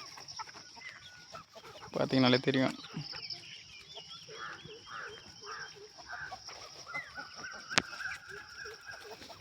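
Free-range country chickens on a small farm flock of around 80 to 100 birds, giving scattered clucks and calls in the background while someone talks briefly over them.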